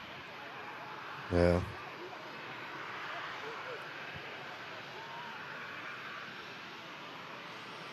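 A Ryanair Boeing 737 jet airliner from Seville at Manchester Airport produces a steady, broad engine roar at moderate distance, holding throughout beneath a brief spoken word.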